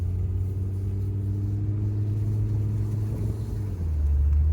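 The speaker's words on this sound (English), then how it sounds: "It's got that baby Viper sound of the 5-cylinder engine." A Volvo V70's five-cylinder engine drones steadily with a low, rumbling exhaust note, rising slightly in pitch as it accelerates up mountain switchbacks, heard from close by without any talking.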